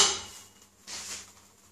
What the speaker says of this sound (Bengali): হয়ে গেছে, আমি ঢাকাটা খুলছি।